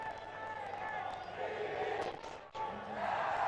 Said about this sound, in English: now it's the Oldham fans finding their voice to try and cheer the team home